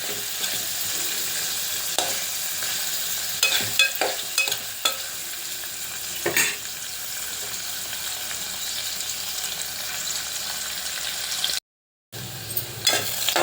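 Onions frying in a pan for plain masala rice, a steady broadband sizzle with a few sharp stirring scrapes and clicks, one brief drop to silence near the end.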